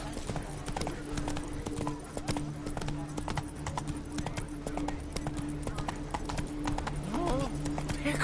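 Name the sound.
horse Roach trotting in The Witcher 3 video game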